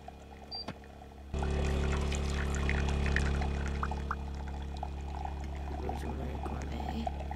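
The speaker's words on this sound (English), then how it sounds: "Select a recipe and wait for it to brew." Coffee brewing and pouring in a Roblox coffee shop game: a steady, loud synthetic liquid pour with a low hum begins after a short quiet start, running continuously with faint trickling detail before easing slightly toward the end.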